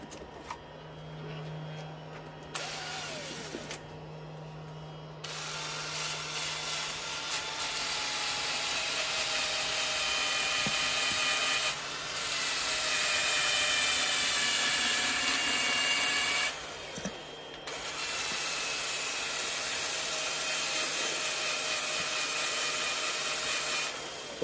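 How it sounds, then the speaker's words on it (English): Sanding the flat underside of a turned sycamore wood vase on a lathe gives a steady, continuous abrasive whirr with rubbing friction, fairly loud and close, lasting throughout with a few brief dips. "I'm going to sand that little bottom bit."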